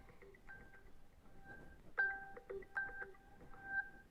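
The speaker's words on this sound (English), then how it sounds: "It's a nice little ringtone." A phone ringtone plays during an outgoing call, a quiet electronic melody of short repeating tonal beeps that rises in loudness after the first two seconds, alone with no talk.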